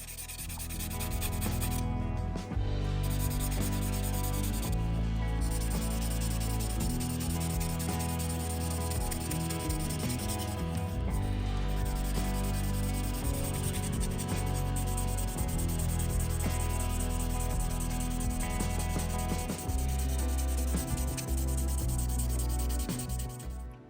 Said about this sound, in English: I also gave the rest of the body a nice scuff with some 600 grit so the paint and primer sticks to it